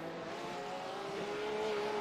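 A McLaren GT3 race car engine at Oulton Park circuit in iRacing drones steadily and loudly as it pulls through a corner, pitch rising and falling slightly, with no voices.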